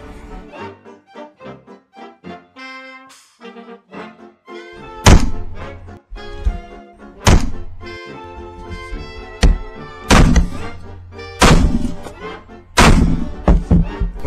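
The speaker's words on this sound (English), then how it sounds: "What are you doing with that damn hammer?" Several loud, sharp metallic strikes of a hammer on a hole punch during a 1950 Admiral Model 6S12 radio restoration land at irregular intervals, each a heavy thunk that rings briefly, with sustained musical tones beneath the first few seconds.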